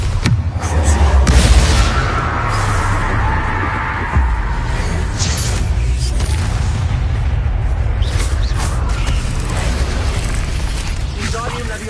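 Bombarda explosion spell cast in a Harry Potter video game, heavy booming blasts with a loud burst near the start and another around four seconds, over dense game sound and rumble, with speech present.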